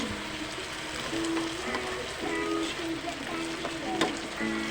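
Corned beef and potatoes being stirred as they fry in a pan, with a continuous moderate sizzle, soft scraping of the utensil and a faint tonal hum in the background.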